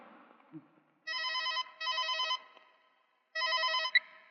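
A telephone rings in three electronic bursts, clear and fairly close, with brief quiet gaps between rings.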